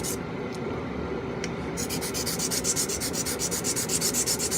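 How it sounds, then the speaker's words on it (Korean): Close, rhythmic rubbing of sandpaper on a small plastic body part of a Bandai Mega Size Unicorn Gundam model, soft at first, then faster regular back-and-forth strokes. "조심해서 사포질을 해주는 게 중요합니다."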